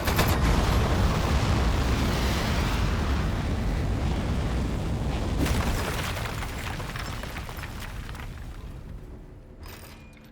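Rocket liftoff in the video game Aperture Desk Job, a heavy rumbling roar with deep booms that starts loud and slowly fades over about ten seconds.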